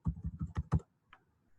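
Six quick keystrokes tap out on a computer keyboard in an even, close burst, then one faint click after a short pause.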